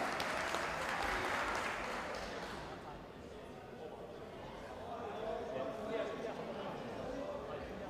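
A crowd applauds at an India versus Iran Asian Kabaddi Championship match in Busan, a broad wash of clapping that is strongest at first and then settles into steady, fainter clapping.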